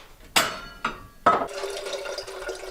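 Water being filled into a pot for boiling coffee at a winter cabin in Alaska: a few sharp clanks of the metal pot, then a steady splashing stream filling it, close by and moderately loud.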